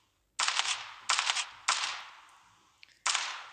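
Gunfire in a Halloween-update video game: four loud broadband bursts spaced about a second apart, each a rattling volley of rapid shots that trails off, with a short gap before the last one.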